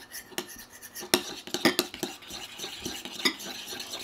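Fluffy unicorn slime is stirred in a bowl, giving a run of irregular clicking scrapes and sticky taps of the utensil against the bowl, close and moderately loud, with no talking.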